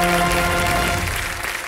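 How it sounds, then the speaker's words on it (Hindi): Studio audience of a televised quiz show applauding junior contestants, a dense steady wash of clapping that tapers slightly toward the end, with some tonal music underneath. "जोरदार तालियां बजा"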